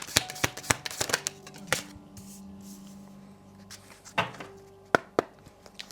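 Tarot cards are shuffled and riffled by hand in sharp, close bursts of slapping snaps, with a softer sliding stretch in the middle before a few more crisp taps.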